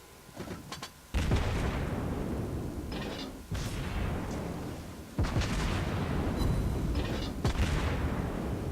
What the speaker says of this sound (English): We actually control our secondaries ourselves, which is really cool